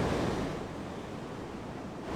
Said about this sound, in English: Oh, the waves are still pretty big out there